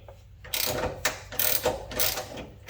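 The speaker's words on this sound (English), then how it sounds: "all we're doing is taking the 2 outer bolts loose, leaving the center one alone" A ratchet wrench loosens the outer skid plate bolts on a Toyota Tacoma SR5, heard as several close, loud bursts of rapid clicking separated by short pauses.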